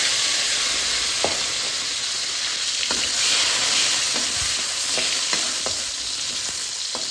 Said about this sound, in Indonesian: Ini baksonya digoreng ngembang juga ya teman-teman